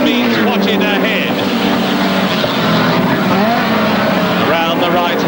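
Saloon race cars from the 1971 championship, including a Vauxhall Viva GT, roar continuously around the Crystal Palace circuit, their engines loud and close with rising and falling pitch as a commentator talks over them.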